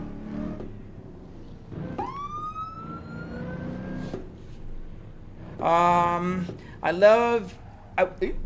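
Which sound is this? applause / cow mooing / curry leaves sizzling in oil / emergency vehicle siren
emergency vehicle siren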